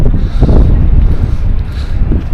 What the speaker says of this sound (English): It's a bit windy, I don't know if you can hear me